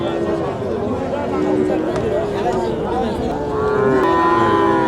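A Sahiwal bull calf at the Nilphamari cattle market lows in long drawn moos, loud and close, with people talking and market hubbub around it.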